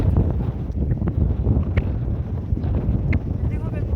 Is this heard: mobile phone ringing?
no